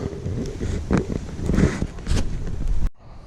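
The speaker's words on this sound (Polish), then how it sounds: "Wiatr powiewa." Gusty wind rushes and buffets loudly for about three seconds, then cuts off abruptly into quiet.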